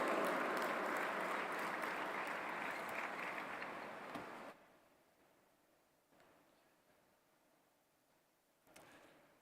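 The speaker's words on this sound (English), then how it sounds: "Please give a huge round of applause to Professor Dr." Audience at the G20 Interfaith Summit at the World Peace Dome breaks into loud, dense applause for Professor Cole Durham, which then cuts off abruptly, leaving a quiet hall with a few faint rustles and a brief later stir.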